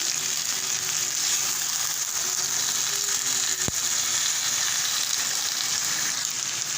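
Potatoes and onions frying in a pan produce a steady, moderate sizzle with a single sharp click partway through.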